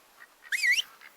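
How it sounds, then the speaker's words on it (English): In the hunting game theHunter: Call of the Wild, a single nasal duck quack rings out clearly, bracketed by a couple of fainter calls, with no talk over it. "I can hear ducks again."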